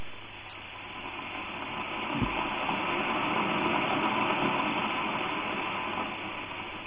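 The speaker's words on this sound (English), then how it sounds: "So you can hear the kettle coming on full," An electric kettle's steady rushing boil swells up at full power after a brief low thump, holding at a constant hiss and hum before easing slightly at the end.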